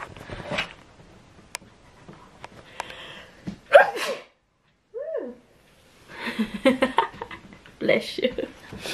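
A person at home gives one sharp, fairly loud sneeze partway through, with quiet chatter and breathing around it.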